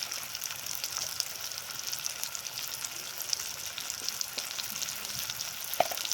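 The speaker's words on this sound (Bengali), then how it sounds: "আমড়াগুলোকে দেওয়ার পর ভালোভাবে আমরা কষে নেব আমড়াগুলোকে" Hog plums sautéed with salt and turmeric in a pan give off a soft, steady sizzle at low volume, with a few faint clicks and taps scattered through.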